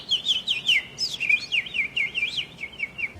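A person whistles in imitation of bird calls, a run of quick warbling chirps and swooping trills, close and clear over faint background noise.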